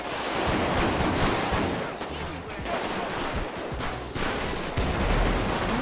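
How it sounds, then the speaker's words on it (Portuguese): Sustained minigun fire in a GTA V gang war, a dense continuous rattle of rapid shots with explosions mixed in, loud and close throughout, with a voice talking over it. "vai de minigun, vai de minigun."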